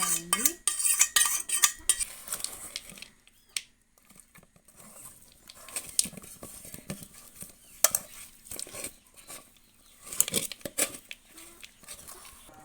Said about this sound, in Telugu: ఇదిగోండి దీంట్లో మనం వేయించుకున్న జీడిపప్పు కొబ్బరి ముక్కలు వేసుకొని బాగా కలుపుకోవాలండి.